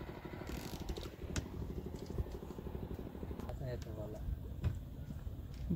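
Fishing boat engine running on the water in the Sundarbans, a steady close low rumble with clattering mechanical pulses throughout, joined by scattered knocks and brief higher sounds.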